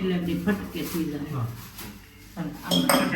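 Metal utensils clink and scrape against a pot while masala pav is mixed, with people talking over the clatter.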